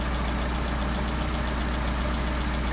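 A car engine fitted with a Solex carburetor idles steadily while the idle mixture screws are adjusted, an even, continuous low rumble with a faint mechanical tick and no voices.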